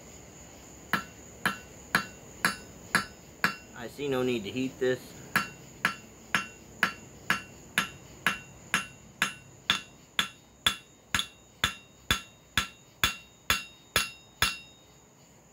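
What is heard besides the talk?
hammering copper flat on an anvil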